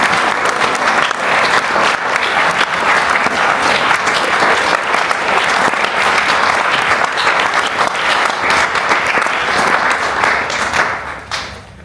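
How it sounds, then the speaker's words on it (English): Loud, sustained applause from a crowd at an awards event, steady clapping for about eleven seconds before it quickly fades at the end. "Let's have one more round of applause for Tony."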